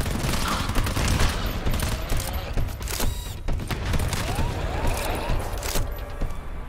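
Rapid gunfire rings out in the horror survival game GTFO, with dense volleys of sharp shots crackling throughout over a steady background rumble, loud and continuous.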